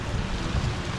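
A small brook on the Mt Hood Timberline Trail gurgles in a steady, dense rush. The water sounds close with some wind noise mixed in and no talking.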